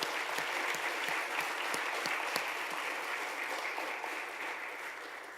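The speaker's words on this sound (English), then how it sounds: "Let's give a big round of applause to everyone." Applause from a congregation at a Sunday church service, a sustained even roar of clapping with a few crisp claps popping out early, then slowly tapering off, moderately loud.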